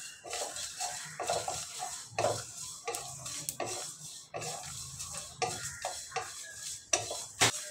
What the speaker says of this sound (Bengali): এর ভিতর দিয়ে দেব 2 চামচ মৌরি, মৌরিটা দিয়ে কিছুক্ষণ ভেজে নেব।